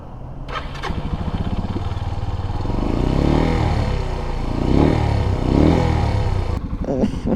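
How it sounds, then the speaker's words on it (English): A Suzuki TU250X motorcycle's single-cylinder engine cranks and fires, then runs with a steady thumping idle and several swelling revs before cutting off, loud and close. "this is a Suzuki TU250X, and this is sort of what it sounds like"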